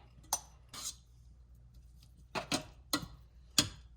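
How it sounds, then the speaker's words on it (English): A spoon clinks against a bowl while chopped fruit and chopped almonds are mixed for charoset, giving about six sharp, separate taps with quiet gaps between them. "I'm gonna add now bits of the chopped fruit and then mix it all together"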